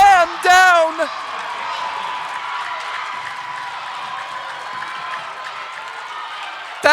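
Basketball crowd at a Brookdale men's college game cheers and applauds after a slam dunk, a sustained roar of voices in the gym, with an announcer speaking briefly at the start and end.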